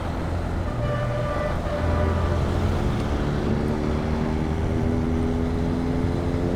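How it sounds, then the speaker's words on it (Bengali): Steady engine drone from a dual-cylinder motorcycle while riding, a continuous tone that gradually rises in pitch as it accelerates, with road and wind noise around it. "ডুয়েল সিলিন্ডার বাইকের সাউন্ডই ডিফারেন্ট।"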